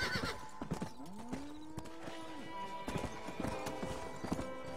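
Horse hooves clip-clop at a steady ride in the Western video game Red Dead Redemption, with a neigh or whinny rising in the middle over game ambience and music.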